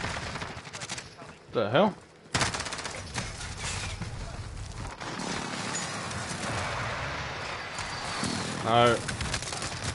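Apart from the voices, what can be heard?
gunfire in a video game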